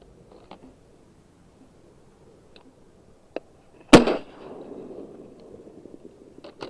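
A single loud shotgun blast while duck hunting on the water rings out close by and decays into a rumbling echo, with a few faint clicks and knocks before and after.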